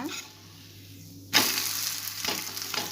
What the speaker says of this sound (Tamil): இன்னொரு பக்கம் நல்லா எண்ணெய் ஊற்றி சுட்டு எடுக்கணுங்க